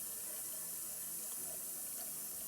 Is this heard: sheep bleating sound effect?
no